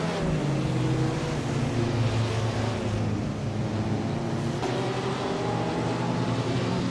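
Several race cars in a video game run together in a continuous, steady engine drone, their pitch rising and falling as they hold close formation, with no talk over it.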